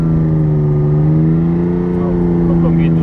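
A 1973 Ferrari 246 GT Dino engine revs steadily with a slipping clutch, giving a loud, sustained droning hum that holds close and constant throughout.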